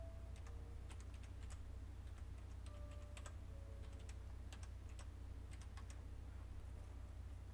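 Quiet, irregular clicks of typing on a computer keyboard, with short bursts of keystrokes spread over a steady background hum and no talking.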